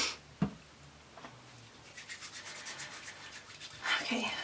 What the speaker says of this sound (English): I just rub that through my hands